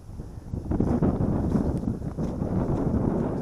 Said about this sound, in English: My God, it is windy out here